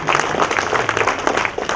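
An audience at the audio launch for the film Hitech Love claps in a dense, steady burst of applause, close and continuous, with a faint murmur of voices.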